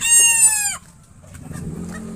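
A Sinibalang rooster at a breeder's coop lets out a loud, close crow that lasts under a second. Quieter clucking and low farmyard noise follow.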